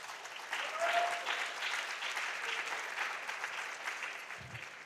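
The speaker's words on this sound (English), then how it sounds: "Please, let's clap for them." Applause from an audience at a junior science and maths quiz championship for contestants. It swells in after a quiet start, then continues as a steady, moderately loud clatter of many hands.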